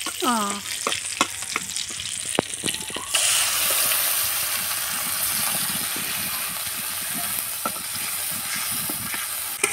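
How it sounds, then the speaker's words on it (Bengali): Ginger-cumin spice paste frying for a vegetarian spinach curry, starting with scattered clinks and scrapes of stirring, then a loud, steady sizzle and hiss that continues to the end, close by, without speech. "মশলাটাকে ভালো করে কষিয়ে নিলাম"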